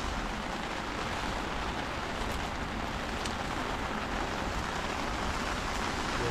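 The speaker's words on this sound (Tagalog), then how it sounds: "lumakas na ang ulan" Heavy rain falls in a loud, dense, unbroken roar of spattering drops, close and constant throughout with no voices.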